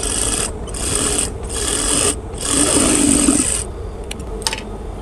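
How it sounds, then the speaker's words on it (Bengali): A sewing machine stitches the side slit of a kameez in a few close, loud, whirring runs separated by brief pauses, ending in a couple of light clicks. "এই পাশটা একটু লুজ দিয়ে হালকা করে টেনে টেনে সেলাই করব"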